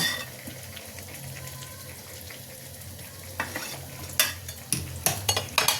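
Chicken curry masala sautés in a pan for red, spicy chicken curry, a steady low sizzle with a few scraping stir strokes and clatters toward the end.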